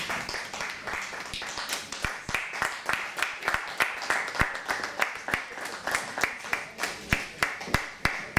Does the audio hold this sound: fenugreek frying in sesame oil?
no